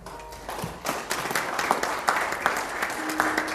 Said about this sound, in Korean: 김종일 선교사님 나오실 때 박수로 환영하겠습니다